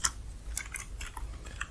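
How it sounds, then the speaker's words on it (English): Fingers type on a computer keyboard in scattered, uneven bursts of light clicks close by, with short pauses between keystrokes. "and start typing"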